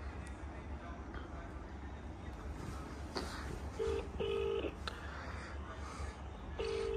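Short electronic keypad tones from a phone being dialed, a few beeps at about four and six seconds, heard over steady background chatter and noise.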